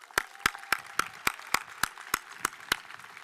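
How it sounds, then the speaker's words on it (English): Slow, evenly spaced claps ring out at a university commencement ceremony, about ten sharp isolated hits over faint background noise, with no broad crowd swell. "Let's give them another round of applause"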